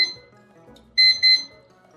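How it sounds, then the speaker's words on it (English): A kitchen timer being set while baking kneadless honey oat wheat bread gives two short, bright electronic beeps close together, clear and close against a quiet room. "So I'm going to set my timer here"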